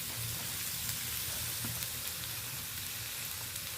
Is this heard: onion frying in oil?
yes